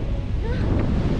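Strong wind on the first summit of Mt. Batolusong in Tanay, Rizal buffets the microphone in a loud, steady roar with constant low rumble throughout.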